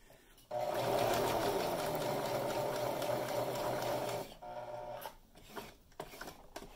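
A sewing machine runs a top seam over ribbon in one steady close burst of about four seconds, stops, then a few short bursts and clicks follow as stitching goes back and forth across the ribbon.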